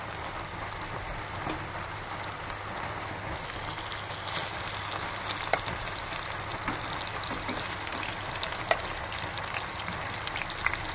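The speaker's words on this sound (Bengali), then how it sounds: "অল্প অল্প করে আমি মাছটা ভেজে নেব এপিট ওপিট করে" Hilsa fish frying in a pan, a steady soft crackling sizzle throughout, faint and even, with heavy rain falling outside mixed into the background.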